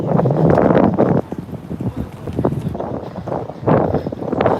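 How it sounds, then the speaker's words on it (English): Strong wind gusts roar across the microphone outdoors on a downtown Toronto street, loud and constant, swelling and easing in waves without talking. "that wind is back with a vengeance"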